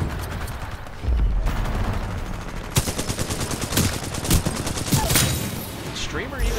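Rapid gunfire from a weapon fired from the hip in Titanfall 2 rattles in dense bursts through most of the stretch, with sharper individual reports standing out near the end.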